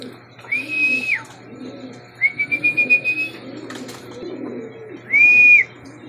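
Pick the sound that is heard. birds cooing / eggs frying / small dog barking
birds cooing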